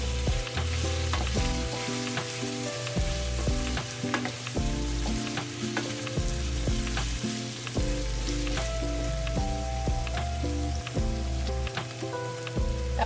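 Bay leaves and whole peppercorns sizzle steadily in a hot pan for pork adobo, a continuous close frying crackle with scattered sharp pops and light stirring throughout, with no talk.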